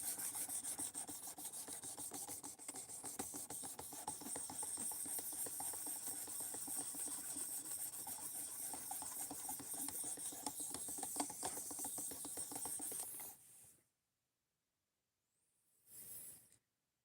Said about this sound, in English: this is sharpening the knife right now